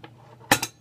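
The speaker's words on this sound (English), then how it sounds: "Took the glass off." Glass clinking as the glass is taken off a propane lantern: one sharp bright clink, then a softer second clink right after it, loud and close, following near-quiet.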